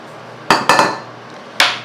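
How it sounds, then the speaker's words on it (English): A utensil stirring salt into flour in a bowl for pie crust, four close, sharp knocks and clinks against the bowl separated by brief quiet. "Just going to stir that up real good to make sure that the salt is incorporated well into the flour."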